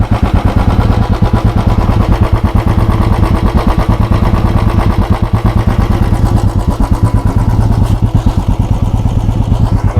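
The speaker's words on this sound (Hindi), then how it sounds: "तो ये BS6 स्टैंडर्ड का साउंड है।" A Royal Enfield Bullet 350 BS6 Standard motorcycle engine runs steadily, a loud, close, continuous thumping idle with an even rhythmic beat and no talking.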